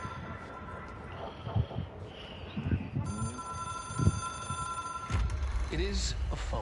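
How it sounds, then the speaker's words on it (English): Telephone ringing in the video game Control, heard in repeated tonal bursts over a steady background hum of game ambience, with a voice talking partway through. "It is a phone."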